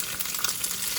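Bacon sizzles and crackles steadily in a hot pan, a dense, continuous frying hiss with small pops scattered throughout, close and fairly loud with no voices.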